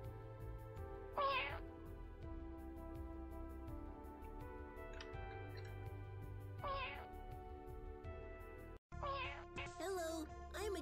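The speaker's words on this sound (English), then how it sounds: "There's a meow button here." Short synthetic cat meows from a meow button in a cat-themed visual novel game, three separate mews spaced a few seconds apart over a steady background music bed, the last one followed by a brief jumble of cutesy cat voices.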